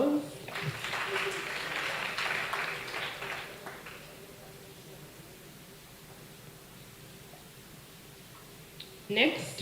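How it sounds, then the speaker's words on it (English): Audience at a school debate grand final between St. Mary's College Kisubi and Kawempe Muslim SS, a brief burst of applause that fades into quiet room noise, followed by a short clatter at the end. "Another round of applause."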